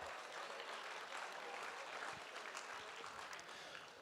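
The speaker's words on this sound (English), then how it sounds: "Big round of applause then to all the generous people" Guests at a Make-A-Wish charity auction applaud the generous donors, a soft, continuous mass of clapping from a room full of people, heard somewhat distant and faint with no voices on top.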